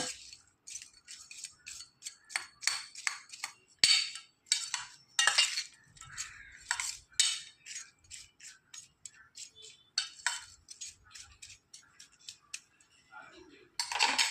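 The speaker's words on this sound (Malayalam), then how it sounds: "ഇതെല്ലാം കൂടെ ചേർത്ത് നന്നായിട്ടൊന്ന് മിക്സ് ചെയ്ത് വെക്കുക" A spoon mixes sliced onion with salt, vinegar and chili for an instant onion pickle, producing rapid, close clinks and scrapes against the bowl in an uneven rhythm, with no talk.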